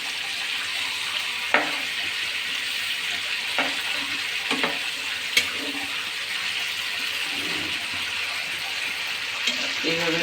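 Chicken tandoori frying in a pan gives a constant loud sizzle, broken by a few sharp clinks and scrapes as the pieces are turned.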